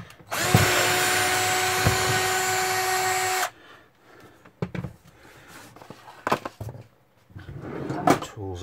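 Loud power drill runs continuously for about three seconds while screws are removed from a Samsung SyncMaster 520TFT monitor during teardown, followed by scattered clatter and handling noises of tools and parts.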